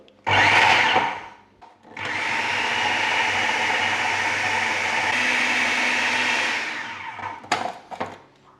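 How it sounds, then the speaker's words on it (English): A food processor blitzes flour, sugar, butter and salt for biscuit dough, with a short burst followed by a long steady whirring run, then the motor winds down with a few clatters. "we will blitz it up"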